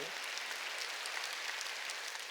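Church congregation applauding during a Sunday worship service at Jesus Central Church, a steady, even patter of many hands clapping throughout, fairly distant and moderate in level with no voices over it.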